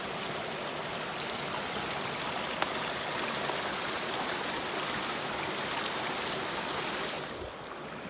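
Loud, steady rush of running water, like a stream or small waterfall, fills the scene without a break and drops slightly near the end.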